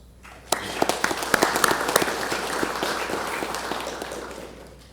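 A crowd breaks into applause, starting with scattered sharp claps that build into steady clapping.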